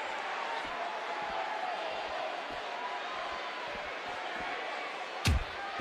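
A low, steady murmur of a wrestling arena crowd in a WWE 2K video game runs throughout, flat and indifferent, broken near the end by a sharp impact.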